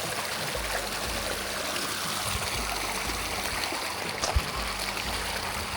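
Glacial meltwater stream rushing steadily at Monkey Creek, a continuous broadband wash of flowing water heard up close with no speech, with a small splash or knock near the end.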